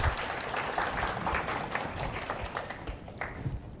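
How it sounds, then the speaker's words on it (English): Audience applause after a medical conference talk, a thin spatter of claps running steadily at moderate level with scattered sharper hand slaps, no talk over it. "Please give him a round of applause."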